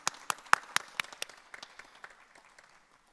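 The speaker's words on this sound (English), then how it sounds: "You guys give a clap for all your people." Sparse applause from the audience at a College for Life graduation ceremony: a few distinct claps at first, then scattered, quieter clapping that fades out, heard from a moderate distance.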